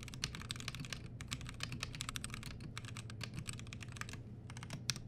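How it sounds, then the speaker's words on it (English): A test message is typed on a computer keyboard in quick, irregular bursts of light key clicks, close but soft, with brief pauses between runs and no talking. "So let's type a quick test."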